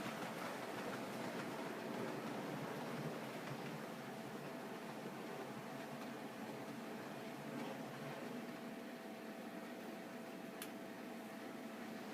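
A model passenger train on a Pennsylvania-themed railroad layout runs steadily, giving a soft continuous rolling rumble with a faint whine throughout, at a low, even level with no talk.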